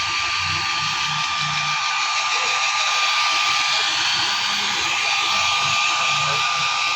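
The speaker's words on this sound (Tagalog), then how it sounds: "Low lang yung blower natin. Medyo may init." Electric blower on low heat drying a dog, a steady, close, even whooshing roar that runs the whole time, with faint low voices beneath it.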